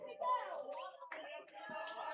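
Young supporters of the Galo side clap and chant together at a youth under-11/under-12 football match between Guarani and Independente de Limeira, a steady patter of hands mixed with high, kid-like voices close by.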